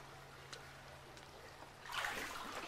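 Water sloshing and splashing in a bathhouse bath in a horror video game, a faint low trickle swelling into a louder broadband wash of moving water near the end.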